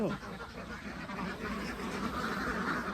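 Laying ducks on a Thai egg farm quack in a dense, continuous flock chorus, with overlapping calls close by for the whole stretch.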